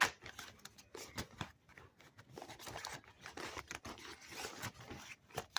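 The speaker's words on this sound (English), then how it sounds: "And I'm going to give them a shuffle." A tarot deck is shuffled by hand close by, giving quiet, irregular bursts of card-on-card sliding and flicking.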